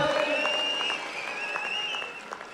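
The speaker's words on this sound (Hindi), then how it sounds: "जोरदार तालियों के साथ स्वागत।" A crowd in Bilaspur applauds to welcome Rahul Dravid and the Indian cricket team, a dense continuous patter heard with tonal whistling or music over it and a steady level throughout.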